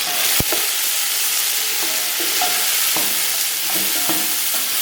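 Finely chopped tomatoes go into browned onions frying for chicken biryani, raising a loud, continuous hiss of oil with scattered stirring clicks and scrapes, no voices.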